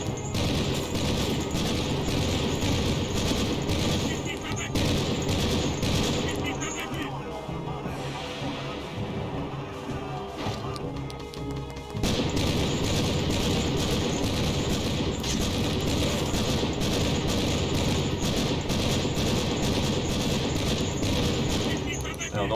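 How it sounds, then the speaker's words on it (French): Sustained gunfire and explosions from the combat game Conflict: Desert Storm, with machine gun bursts rattling continuously and loudly throughout while someone talks over the action. "Alors, on en profite d'être couvert par Follet avec la mitrailleuse."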